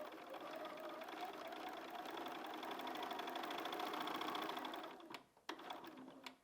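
Sewing machine stitching a seam on a log cabin quilt block, a close, even motor hum with rapid needle rhythm for about five seconds, then slowing to a stop with a few short clicks.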